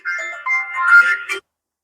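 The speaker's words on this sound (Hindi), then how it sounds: "साहेब फोन आवता है।" A phone rings with a short, bright electronic tone, loud and close, lasting just over a second before cutting to silence.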